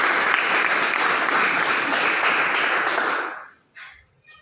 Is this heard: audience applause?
yes